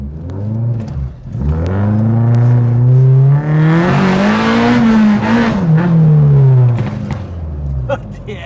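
Citroen AX with a swapped Honda Civic Type R engine revving hard, a loud close rising and falling engine note with gear changes.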